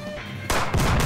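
A short electronic hum cuts abruptly into a sharp burst, followed by a second blast-like crack, loud and close: gunfire in the game Henry Stickmin Collection.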